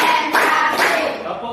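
Children in a classroom clap a short counted pattern, two or three sharp claps close by within a second and a half.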